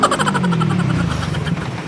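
A motorcycle engine runs roughly up close, its sick idle throbbing and knocking unevenly in a steady loud chug without any voices over it.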